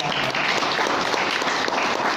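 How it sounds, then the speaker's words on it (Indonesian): Dense, close applause from a seated audience at a motivational business seminar in Medan, continuous and loud for a couple of seconds. "Tepuk tangan."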